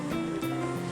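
Ocean waves heard through a seashell in the game Bravely Default 2 wash in a soft, continuous roar with gentle swells, steady and close, with no voices over it.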